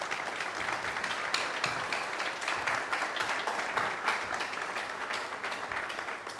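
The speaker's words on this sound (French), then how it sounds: "sous vos applaudissements" Steady applause from a crowd welcoming a government minister, a dense wash of clapping that holds at an even level throughout, heard from a moderate distance.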